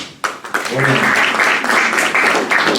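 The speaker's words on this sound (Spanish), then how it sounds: "Regálele un aplauso al Señor." A church congregation bursts into applause during a service, with dense, loud clapping that builds quickly after a brief pause and then holds steady, and a voice can be heard under it.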